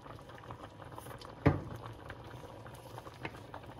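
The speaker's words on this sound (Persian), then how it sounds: "در قابلمه رو بذارید با شعله متوسط 4-5 دقیقه اینو با هم بپزن." Pomegranate soup with meatballs boils in a covered pot on medium heat, a steady soft bubbling and patter with one brief louder knock, no talk.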